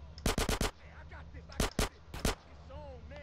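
Gunfire in GTA San Andreas: a quick burst of four loud shots, then two more separate shots a moment later, with quiet game ambience and faint chirpy sounds between.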